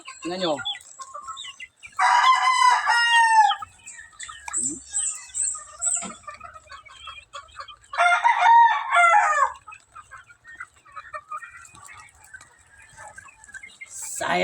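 Free-range chickens at feeding time, with a rooster crowing twice loudly and close amid steady hen clucking, while someone speaks briefly between the calls.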